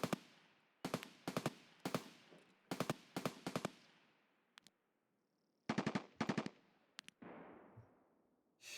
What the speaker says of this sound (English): Heard all that gunfire in there?